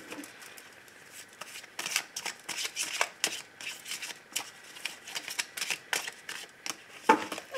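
Oracle cards, l'oracle des amoureux, are shuffled by hand in a run of quick, crisp riffling bursts that come close and fairly loud, with no one talking.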